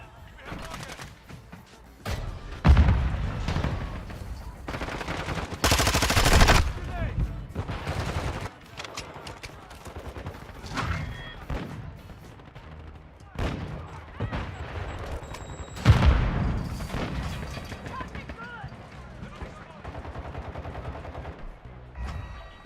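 Gunfire rattles through a Modern Warfare 2 hardpoint match, loud bursts and scattered shots repeating across the clip under in-game voice callouts.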